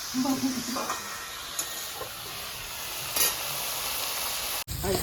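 Potato and tomato are stir-fried in a pan, giving a low hiss and sizzle with a few scraping stirs. A faint voice may sit underneath, and the sound cuts off abruptly near the end.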